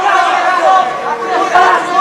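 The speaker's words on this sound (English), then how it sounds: "the Cicero Costha fans in the crowd celebrating that guard pass" A crowd of fans at a Para Bellum Quintet jiu-jitsu finals match cheers and chatters loudly after a guard pass, a dense, continuous wash of voices close by.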